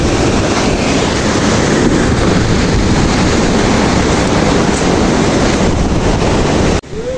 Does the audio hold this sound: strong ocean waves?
yes